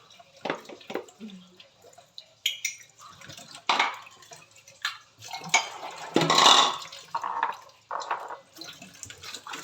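Dishes clink and clatter amid splashes and running water, intermittent scrubbing and rinsing sounds, fairly close with quiet gaps between.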